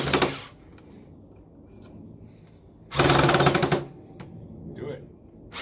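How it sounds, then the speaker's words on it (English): A power drill drives screws into wood for a Mother's Day planter, two loud bursts of whirring near the mic, the first short and the second about a second long, with quieter gaps and people talking between. "Now I'll hold the drill for you and you screw it in."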